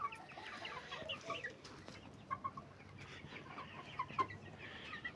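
Black chickens, a purebred flock about seventy days old in Andijan, cluck in short, scattered bursts close by over a steady farmyard background. No one speaks.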